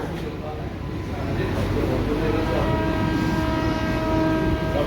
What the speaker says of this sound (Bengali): এখন আমাদের ট্রেন এখন ছেড়ে দিল বনগা স্টেশন থেকে